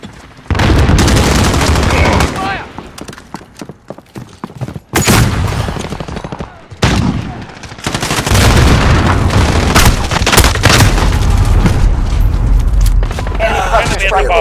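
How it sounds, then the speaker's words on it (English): Grenade blast and gunfire in Call of Duty: Modern Warfare: loud bursts of rapid shots and booming impacts in several heavy clusters, with short near-silent gaps between them and in-game voices calling out beneath. "Throwing grenade."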